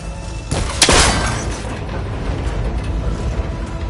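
A shot strikes a cable connector in Horizon Forbidden West, giving a sharp metallic crack and snap as it breaks, followed by a rattling mechanical clatter and low rumbling that fades into ambient background.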